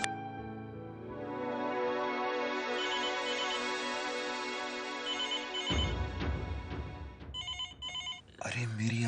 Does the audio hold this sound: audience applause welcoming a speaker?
no